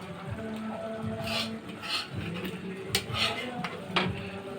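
Gongura leaves are stirred in a home cooking pot, with a utensil scraping and clinking against the metal in irregular strokes, several sharper knocks standing out, and a voice heard faintly in the background.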